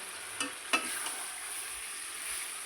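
Chicken stir-frying in a pan for a spicy chicken kosha, a steady soft sizzle throughout with two brief sharper clinks of utensil against the pan early on, close and fairly quiet, no talking.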